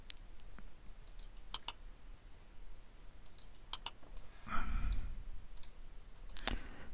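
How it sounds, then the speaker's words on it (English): An IBM 1401 mainframe card reader loading a punched card: scattered light mechanical clicks over a quiet hum, then a brief rushing feed burst and a final sharp clack, heard close with no talking. "press the load button, and the card gets loaded into the computer"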